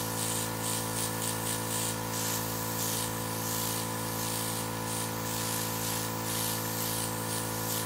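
A steady airbrush hiss sprays water-based makeup continuously over a constant low motor hum, close and even throughout with no pauses.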